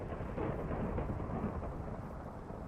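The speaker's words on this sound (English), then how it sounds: "Oh, thunder shower." A thunder shower in the survival game The Citadel, in a marsh area, brings a deep, rolling rumble of thunder under a continuous wash of rain, steady and fairly loud throughout.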